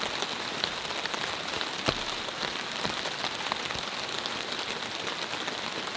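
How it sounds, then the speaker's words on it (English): Rain falls on a camping tent in freezing cold weather, a steady dense patter of drops with occasional louder individual taps, continuous and even throughout with no talking. "I'll leave you to listen to the sound of the rain."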